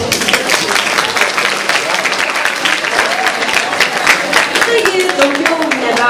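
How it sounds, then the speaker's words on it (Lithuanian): An audience at a school choir competition claps loudly and steadily for a first-grade choir, a dense, continuous wash of many hands close by without pause. "palaikykime juos labai gausiais plojimais"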